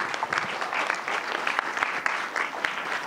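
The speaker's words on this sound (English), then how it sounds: "So let's give her another round of applause." A theater audience gives a round of applause after a guest speaker's talk at a science film screening, with steady, full clapping from many hands throughout.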